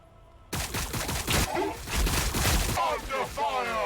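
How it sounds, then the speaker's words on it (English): Bursts of rapid gunfire from a battle in Warhammer 40K: Battlesector, a squad caught on the flank, crackling loud and dense for a few seconds with a voice speaking over the shooting. "Under fire."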